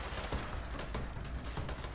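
Automated turret in Fallout 76 firing a rapid burst of gunfire, dense repeated shots over a steady roar of game noise, loud and continuous, with no talking.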